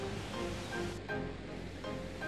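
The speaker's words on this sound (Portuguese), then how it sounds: "ir ao local de onde está vindo o som da queda d'água" Waterfall ambience from the video game Shenmue 2, a steady, soft, broadband rush of falling water heard alone at low level throughout.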